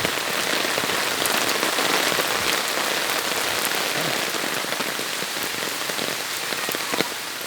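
Steady rain falls on a muddy, slippery path down toward a house, a dense hiss of drops on the ground that stays loud and unbroken throughout, with no one speaking.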